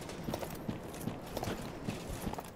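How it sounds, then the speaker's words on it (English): Footsteps of an approaching enemy in the video game Dark Souls 3 tread steadily in a quiet, rhythmic clopping pattern over faint background ambience, soft and somewhat distant, with no talking. "Footsteps."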